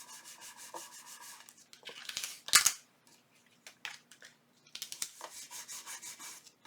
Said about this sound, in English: And I'm going to tape it right onto my card,